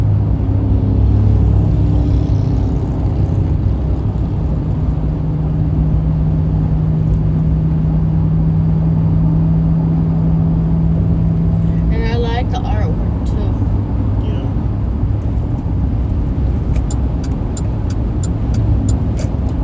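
Steady road traffic at Tijeras Pass near Albuquerque, with semi trucks among the vehicles, a continuous rumbling drone of passing cars and trucks, heard from close by with voices faintly present.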